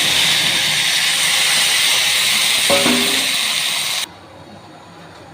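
Hot pan of fried rice for khichuri gives off a loud, steady steam hiss that runs strong for about four seconds and then cuts out abruptly, leaving near silence; no talking.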